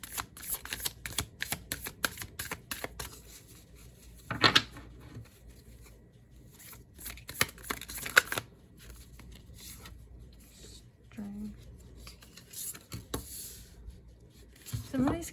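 Brand-new tarot cards, some sticking together, are shuffled, handled and flipped over at close range, making soft papery slides, scrapes and light taps in irregular bursts, with quiet pauses between them.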